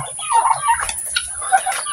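A brood of twenty newly hatched itik ducklings on a farm peeps and chirps in a busy overlapping chorus, close and fairly loud, with faint background noise.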